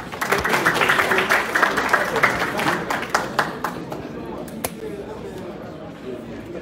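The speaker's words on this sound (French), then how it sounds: "professeur Tussel Pédélus, sous vos applaudissements." Applause from the audience at a Haitian university ceremony, dense and fairly loud at first, then thinning and fading over several seconds, with voices talking through it.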